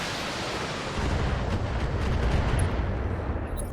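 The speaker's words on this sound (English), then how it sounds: "I'm gonna fire Kamea." A mech's weapons fire in the BattleTech video game, producing a dense, low rumbling roar that swells partway through with a few sharper cracks layered on top, no voices heard.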